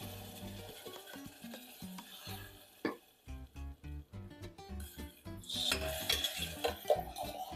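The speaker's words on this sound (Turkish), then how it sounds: "Güzelce karıştırıp çorbamızın üzerine ilave ediyorum." A spoon scrapes and clinks against a metal pot while stirring soup with roasted mint, irregular rhythmic scraping strokes, close and moderately loud, ending in a sizzling wash.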